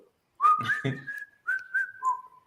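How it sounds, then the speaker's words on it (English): A person whistles a short tune, with clear sustained notes rising and falling, close to the listener in a quiet room. "And sometimes I whistle it."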